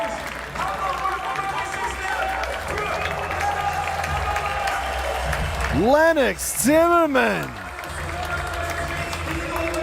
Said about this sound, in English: The crowd loving that one.